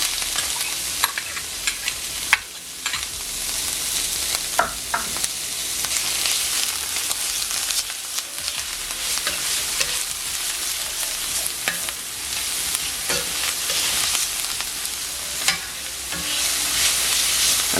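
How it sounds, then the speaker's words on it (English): Garlic and onion sauté in a pan for a curry crab dish, a constant bright sizzle broken by frequent stirring scrapes and clicks close at hand, with no speech. "So now I'm going to go in with my garlic and onion."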